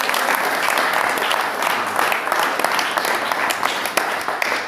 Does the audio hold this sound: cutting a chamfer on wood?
no